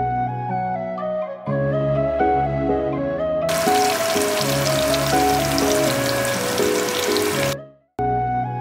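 Eggplant slices hit hot oil in a pan and sizzle loudly for about four seconds over steady background music, then the frying stops abruptly.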